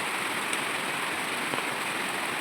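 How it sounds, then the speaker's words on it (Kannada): Rain falls steadily beside a river, a soft, even hiss of drops with no pauses, moderately quiet and unbroken by voices. "ಮಳೆ ಬರ್ತಾ ಇದೆ"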